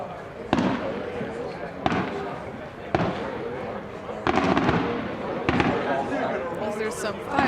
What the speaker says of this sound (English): Is there some fireworks action going on over here?